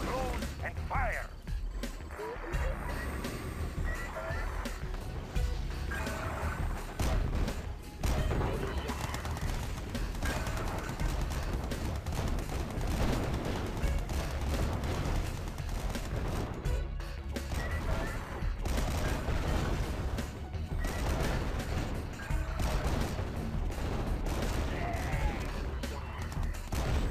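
Dense, continuous gunfire and explosions from Allied units in the strategy video game C&C Yuri's Revenge, with loud overlapping bursts and crashes over a busy battle mix and occasional short unit voice responses.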